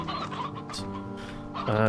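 Chickens clucking in the game Slime Rancher 2, a few close, throaty clucks and squawks layered together, with a louder burst of clucking rising at the end.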